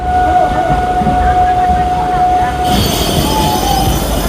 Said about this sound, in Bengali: ট্রেন বেরিয়ে গেল Krishnanagar city junction railway station থেকে আমঘাটার উদ্দেশ্যে